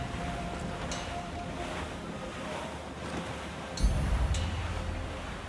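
Ocean waves and wind at sea in Assassin's Creed IV Black Flag. A steady broadband wash of surf and wind hiss carries a soft low rumble, and a heavier gust or wave surge swells near the end.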